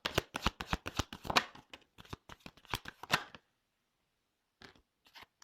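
Tarot cards shuffled in quick riffling bursts for about three seconds, close and crisp, followed by a pause and a few soft card flicks, with no talking.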